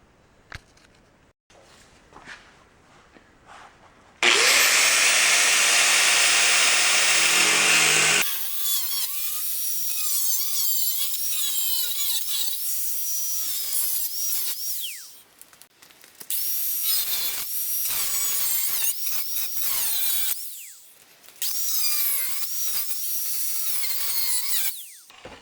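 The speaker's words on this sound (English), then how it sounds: "I'm going to take a zip cut and go right through both layers" A cut-off wheel slices through two layers of sheet metal on a 2007 Silverado rocker panel and cab corner, a steady loud high whine lasting about four seconds, followed by other workshop grinding and tool noise.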